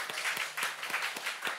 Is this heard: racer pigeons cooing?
no